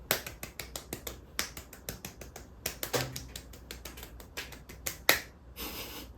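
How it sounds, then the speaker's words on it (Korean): Light hand claps come in a quick, even run of roughly twenty sharp, crisp taps, close and alone with no voice over them. "박수를 살짝 좀 치고 갈게요"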